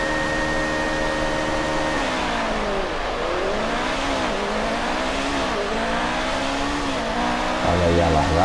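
Several engines of classic-era Formula 1 cars in F1 2018 rev together at a race start in Germany, a dense, loud roar of rising and falling pitches sweeping through gear changes for the full stretch, with faint voice chatter beneath.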